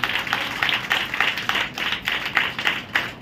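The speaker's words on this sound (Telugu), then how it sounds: "చప్పట్లు కొట్టాలి ఒకసారి." A large gathered congregation claps in sustained, rhythmic rounds, a dense wash of many hands with a steady pulsing beat that carries loudly throughout without talk.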